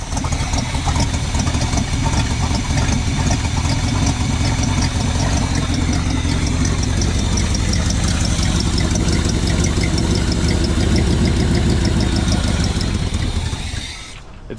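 A 1980 Chevy 4x4 square-body truck engine with a QuadraJet carburetor runs loud and steady at close range, a rough continuous idle that stumbles and cuts out at the very end.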